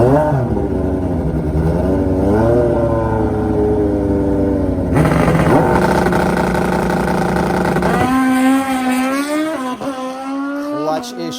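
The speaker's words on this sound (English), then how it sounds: "the maiden voyage for Barry Pryor's new FBR shop Suzuki Hayabusa" A Suzuki Hayabusa drag bike from the FBR shop makes a run at an NHRA drag race, its loud engine climbing through rising, stepping pitch sweeps with an abrupt shift midway, while an announcer talks over it.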